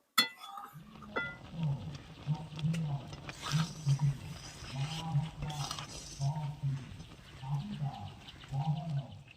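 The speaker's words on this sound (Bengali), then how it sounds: "নেড়ে দেবো ভালো করে।" Thickening carambola murabba with chilli being stirred in a pan, soft spoon scrapes and a few light clinks under a low, steady bubbling hum, close and fairly quiet.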